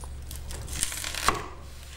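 A knife cuts through an onion on a board in a couple of distinct crisp chops, close and clear, with a faint low hum underneath and no talking.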